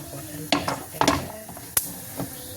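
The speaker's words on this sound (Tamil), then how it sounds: "எண்ணெய் ஊற்றி வெந்தயம் போட்டாச்சு" Fenugreek seeds dropped into hot oil for a fish kulambu, giving short bursts of crackling sizzle with a sharp spit, close and brief.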